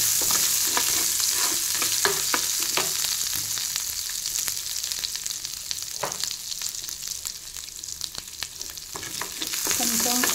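Coriander, mint, tomato and coconut frying in a pan give a continuous close hissing sizzle, broken by occasional spatula scrapes and taps against the pan, with no talking.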